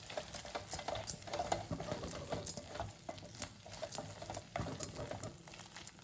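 Chili powder being stirred into a Tamil kuzhambu curry: a spoon scrapes and taps against the pot in quick, uneven strokes, close and fairly quiet, with a faint steady hiss underneath.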